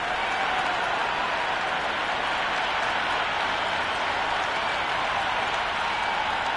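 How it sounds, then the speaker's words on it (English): A stadium crowd in the Cricket 26 video game cheers and claps in a steady, dense roar for an India vs Pakistan T20 match, heard alone without commentary. "We're about to get underway and already the crowd is up and about."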